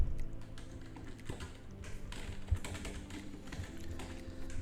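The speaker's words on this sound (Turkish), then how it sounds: "Ben tekrardan yapıp numaramı yazıyorum." A number is typed on a keyboard, producing faint, scattered light taps and clicks at an irregular pace against a quiet background.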